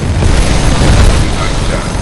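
A Titan's flight core fires in the Titanfall 2 campaign, a loud, dense, sustained roar of rocket barrage and explosions with no clear gaps.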